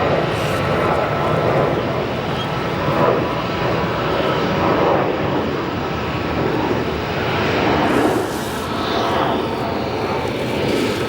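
A Spirit Airlines jet at O'Hare Airport taxiing into a holding area, its engines running with a steady, close, continuous roar and whine that holds for the whole stretch, with no talk over it.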